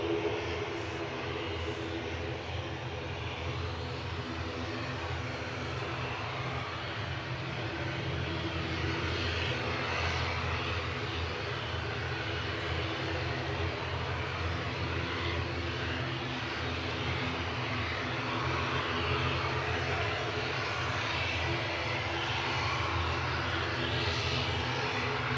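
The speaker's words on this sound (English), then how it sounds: "Airbus A320 DAIZQ" Steady, sustained roar of an Airbus A320 airliner arriving at Manchester Airport from Munich, a broad engine rumble holding at an even level throughout without pause.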